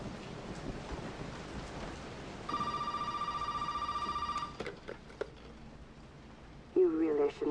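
A telephone rings in one steady electronic burst of about two seconds, fairly loud over a windy, rumbling background, then stops; a voice is heard briefly near the end.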